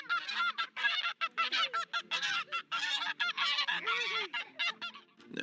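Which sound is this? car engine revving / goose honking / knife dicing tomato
goose honking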